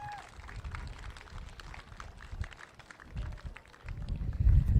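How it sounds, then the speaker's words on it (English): A crowd applauds the women's teams at a Murri Carnival rugby league grand final, a steady patter of outdoor clapping that swells louder toward the end, with low thumps mixed in. "can I just get a round of applause for all our women's teams throughout the competition?"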